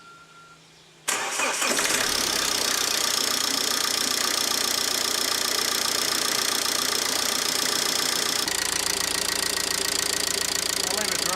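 A Ford Focus engine cranks and catches after a second of near silence, then settles into a steady, loud idle while warming up after a thermostat housing replacement, running on continuously without talk.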